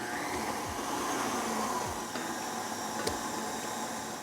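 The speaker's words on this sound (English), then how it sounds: "I'm going to add them one at a time and beat them in. Do this at low speed at first." Electric mixer beating eggs into cake batter at low speed, giving a steady, fairly quiet whirring drone with faint rhythmic sweeps from the beaters and a small clink near the end.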